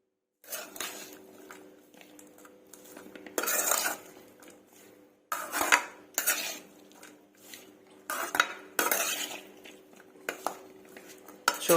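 Sweet corn snack ingredients being mixed with a metal spoon in a bowl, heard as bursts of scraping and clinking that come in short rhythmic stretches with brief pauses between them.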